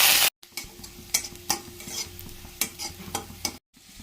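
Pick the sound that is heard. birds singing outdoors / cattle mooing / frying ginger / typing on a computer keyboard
frying ginger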